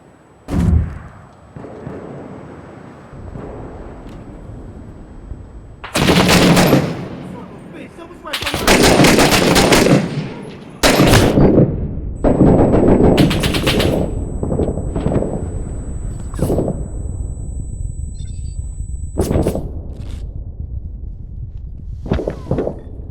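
Heavy weapons fire in the video game Six Days in Fallujah: loud, broadband bursts of gunfire and booming blasts come in repeated clusters over a steady low rumble, some close and harsh, others briefer and further off.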